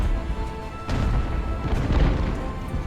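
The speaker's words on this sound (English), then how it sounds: "Front line of Grenadiers are taking their first bombardment from artillery off screen" Off-screen artillery bombarding a line of grenadiers in the age-of-sail battle game Ultimate Admiral: Age of Sail, a heavy boom about a second in, then a rolling rumble of further blasts, with no talk.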